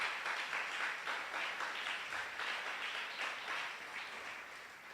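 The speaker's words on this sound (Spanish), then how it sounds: "Dele un aplauso." Congregation in a church clapping in a sustained round of applause, a dense wash of many hands that swells in rhythmic pulses and then slowly fades toward the end.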